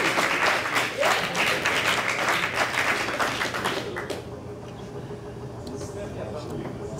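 An audience applauds a student team called up to present at an engineering design challenge, with dense, loud clapping for about four seconds that then drops away into quieter room noise and faint voices.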